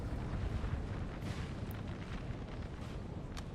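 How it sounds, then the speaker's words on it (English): Enemy artillery fire in the Napoleonic-era strategy game Napoleon Total War, a dense, continuous low rumble of distant cannon booms rolling together, faint and steady throughout. "Enemy artillery."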